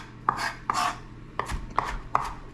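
Knife chopping an onion into half-moon slices on a cutting board in a home kitchen, about six crisp, evenly spaced strikes close by, with faint scraping between them and no talk.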